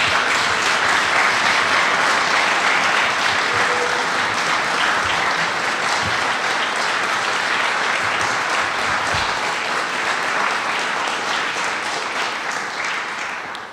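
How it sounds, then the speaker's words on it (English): A large indoor audience at a chemical plants rule signing claps steadily for agency career staff, loud dense applause holding for over ten seconds before tapering off at the end. "let's give them a round of applause"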